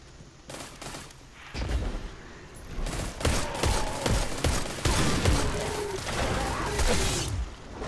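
Gunfire in the video game Destiny 2 comes as rapid bursts of sharp, loud shots, with a brief pause near the start followed by sustained volleys and crashing impacts.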